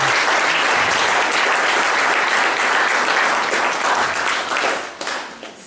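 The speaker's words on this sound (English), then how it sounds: "So let's give them a big round of applause." Loud, sustained applause from an audience at a historical society speaker series, a dense wash of clapping lasting several seconds before thinning out near the end.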